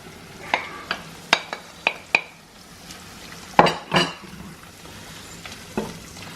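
Mushrooms and onion go back into a pan of browned meat for stroganoff, bringing a soft sizzle under sharp spaced clatters and scrapes of a utensil on the pan, clustered early and again midway.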